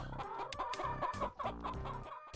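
Game chicken clucks from a livestock market in CapLab, several quick clucks in a busy rhythm over a steady background music bed.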